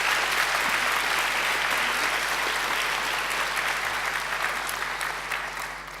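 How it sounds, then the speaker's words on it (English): Sustained applause from a large graduation ceremony audience, a steady dense clapping that holds for several seconds before easing slightly at the end. "I think Angela deserves another great round of applause."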